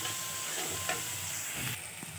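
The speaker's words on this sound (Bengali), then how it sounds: "এই পেঁয়াজটাকে একটু হালকা লাল করে ভেজে নিতে হবে।" Sliced onions with turmeric and salt fry in a pan for a prawn do pyaja, giving a steady close sizzle broken by a few soft stirring scrapes, with no voices.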